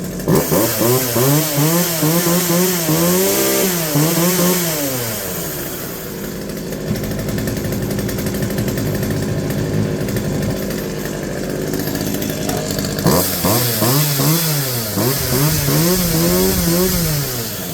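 A Poulan 2150 chainsaw running close by after a restart, revved hard in two loud buzzing bursts with a quieter idling stretch between them.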